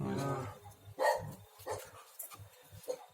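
Dogs bark several times at a bee removal job, a burst near the start followed by scattered shorter yips, fairly faint and uneven.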